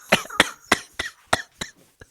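A person gives a harsh, repeated cough, about seven sharp bursts in quick succession, close and loud, each weaker than the last, with nothing else around it.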